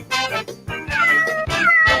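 A cat meows loudly and repeatedly at close range, with several drawn-out, wavering calls in quick succession and no other sound competing.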